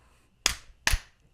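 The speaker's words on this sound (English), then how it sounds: "I'm gonna do a clap sync also." Two sharp hand claps for audio sync on a podcast recording, close and crisp, spaced about half a second apart in an otherwise quiet room.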